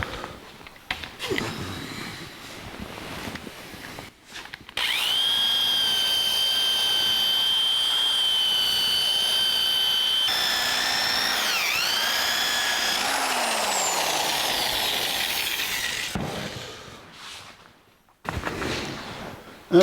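Electric polisher with a new finishing pad buffing polish on the body of a 1982 Jeep CJ7, switching on with a loud steady whine that rises and shifts in pitch as pressure changes, then cuts off near the end.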